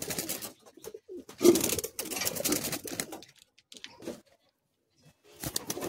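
Tournament pigeons cooing in soft bursts, fairly close, with gaps of quiet between calls.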